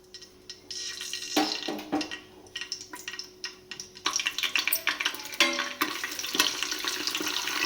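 A packet of pulao spice mix is fried in hot oil in a village kitchen, with crackling and sizzling bursts and stirring scrapes that grow louder and busier partway through.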